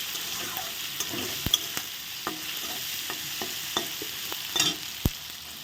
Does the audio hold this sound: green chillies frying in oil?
yes